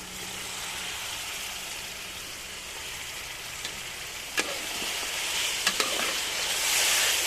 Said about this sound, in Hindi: थोड़ी देर के लिए भून लेंगे ताकि मसाला अच्छे तरीके से चनों में रच जाए।